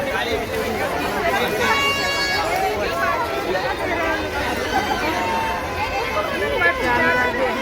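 A dense crowd at the Shri Puratan Chikaneshwar temple's Mahashivratri fair produces continuous close-up babble of many overlapping voices and shuffling movement, with no single sound standing out.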